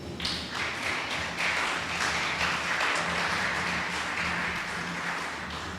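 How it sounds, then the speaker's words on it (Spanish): Congregation at a church service claps steadily, a sustained wash of applause at moderate level from many hands without a break. "Denle un aplauso al Señor."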